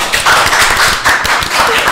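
A studio audience on a live morning show claps and cheers to welcome a guest, a dense burst of applause that rises and falls in waves.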